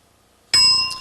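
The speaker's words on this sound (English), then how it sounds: "start describing when you hear the bell." A single bright game-show bell rings out after a half-second of silence, a loud sustained ding that holds its tone and swells slightly before the clip ends.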